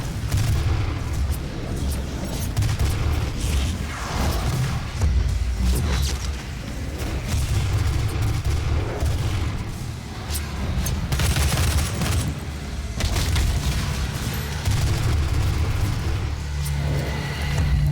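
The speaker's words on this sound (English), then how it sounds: "Let's use these grenades to siphon some health back." Explosions and combat noise in the Doom 2016 video game: a dense, continuous rumble of booms and blasts, loud and close, with low-end thuds running throughout the whole stretch.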